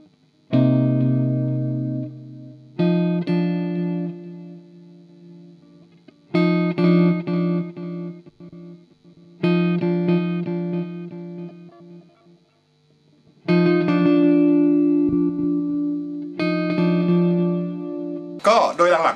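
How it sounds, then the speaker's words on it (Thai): Guitar played through a Cuvave Cube Baby portable multi-effects unit with delay added, distorted chorused notes and chords struck in several phrases with repeats trailing each attack, loud and close, with no talking. "แล้วคราวนี้เรามาลองเพิ่มดีเลย์ดู"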